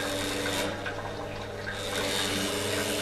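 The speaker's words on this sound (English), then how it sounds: "practically I try to close the tube when the pump is running. Look what happens. Look the pump." A PL162T water pump strains as its tube is closed off while running, starved of water, giving a loud continuous rushing, gurgling churn with tonal hum underneath.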